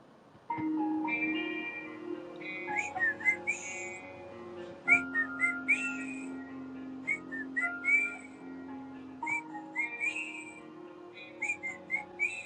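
A person whistles a wandering tune of quick chirpy trills and held notes over a low steady hum, going on for several seconds fairly close with no talk.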